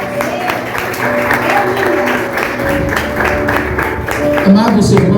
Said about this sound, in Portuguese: Aplaudindo a Deus.